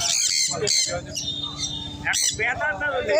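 A female red lory squawks in short, harsh bursts at a Srirampur animal and bird market, the calls mixed closely with people talking nearby.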